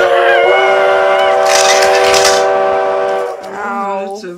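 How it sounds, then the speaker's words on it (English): A loud, sustained steam whistle blows with rich harmonic tones for about three seconds, then fades into a lower, wavering hoot. "That's a really strong whistle."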